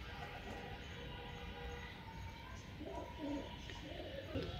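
A pigeon coos softly several times near the end over quiet background noise while defending its nest, faint and fairly close.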